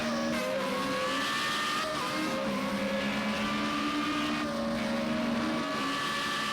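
Formula Renault race car lapping the Zhuhai circuit in a racing video game, a steady sustained engine drone with shifting pitch through gear changes, continuous and fairly loud with no talk.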